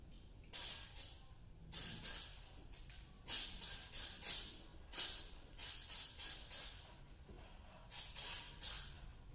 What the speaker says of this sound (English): Get some brake cleaner here.